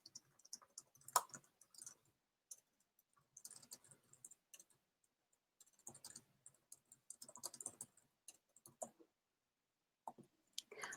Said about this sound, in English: I'll type that in the chat box